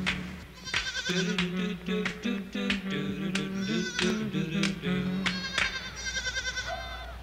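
A group of animals bleats repeatedly, wavering calls overlapping one another, fairly close, with short sharp clicks scattered through.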